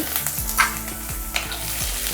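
Chopped onions and curry leaves sauté in oil with mustard seeds and urad dal, giving a steady close sizzle broken by a few scraping stirs of the spatula against the pan.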